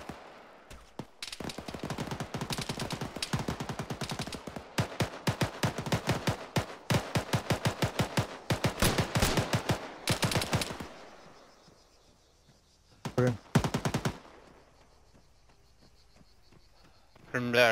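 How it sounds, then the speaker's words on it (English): Rapid bursts of automatic gunfire in the Arma 3 video game, dense volleys repeating across several seconds with brief pauses, then a final short burst near the end; loud and close, with a voice heard briefly. "Now I'm taking a lot of fire."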